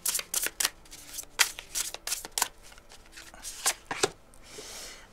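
Tarot cards shuffled by hand before a reading, a run of quick riffling bursts and soft slaps, close and clear, with no talking.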